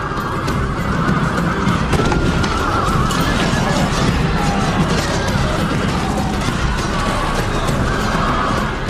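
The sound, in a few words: cavalry horses neighing and galloping in Time Commanders battle game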